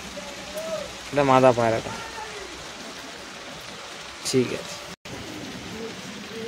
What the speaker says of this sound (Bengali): আপাতত এখানে বৃষ্টি হচ্ছে